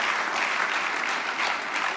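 An audience at a German party conference applauds steadily throughout, a dense, even wash of clapping with no break.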